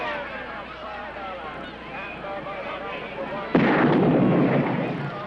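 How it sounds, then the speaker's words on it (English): Fireworks being tested go off in one sudden, loud blast partway through, followed by a rumbling decay. Voices and other sounds come before it. "We're just testing some fireworks."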